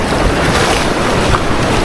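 Heavy surf whipped up by a typhoon crashes steadily, a close, unbroken wash of waves and gusting wind over the microphone, with nobody speaking.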